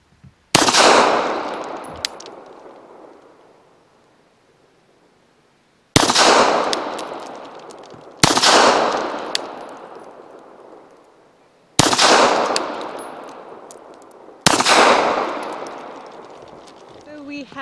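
Arex rexZero 1 duty-sized pistol fired at 7 yards at an outdoor shooting spot: five loud, sharp single shots, each with a ringing decay, spaced irregularly across the span.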